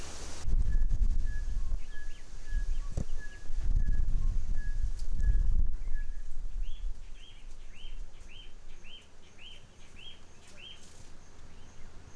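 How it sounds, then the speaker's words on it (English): A splendid starling calls in the Maasai Mara in Kenya, repeating short bright chirps in a steady rhythm, at first over low rustling and rumbling outdoor noise and later against quieter background. "And believe it or not, this bird is a starling."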